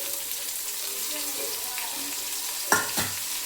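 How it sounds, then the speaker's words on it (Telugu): Chopped tomatoes added to frying onions for a brinjal curry, a steady close sizzle running throughout with a sharp clatter near the end as they drop into the hot pan. "ఇలా కట్ చేసుకున్నటువంటి టమాటాలని ఇందులో యాడ్ చేయాలి."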